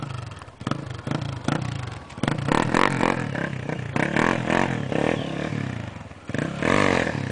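A motorcycle engine is revved up repeatedly outdoors, loud and close, rising and falling in several pulsing bursts with some clattering mixed in.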